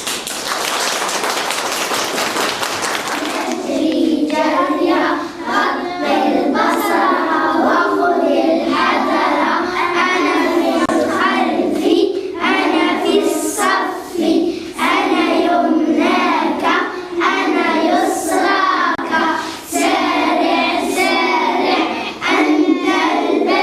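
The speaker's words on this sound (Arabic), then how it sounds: "تصفيق" A burst of applause and clapping from the audience at a primary school arts show for first-year pupils at Malik Bennabi school fills the first few seconds, then gives way to a steady stretch of music.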